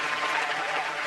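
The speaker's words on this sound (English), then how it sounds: "We're gonna give a big round of applause for Jeezy." A brief, dense burst of audience applause for Jeezy, an even roomful of clapping with no break and no voices over it.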